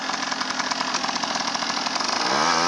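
A beginner rider's motorcycle engine revving hard and close, a buzzy steady drone that rises in pitch near the end.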